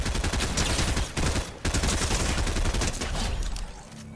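Dense video game gunfire rakes toward the player in a near-continuous loud barrage of rapid shots, with brief gaps and a fade near the end.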